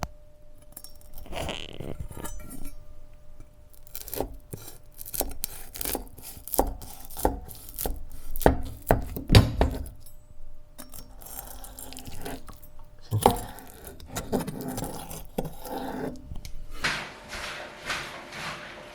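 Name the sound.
crispy frico being cut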